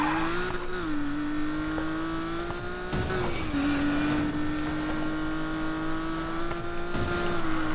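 A Porsche sports car's engine in Need for Speed Payback sustains a loud, steady whine, dipping briefly twice as the revs shift, with bursts of tyre squeal and road noise mixed in.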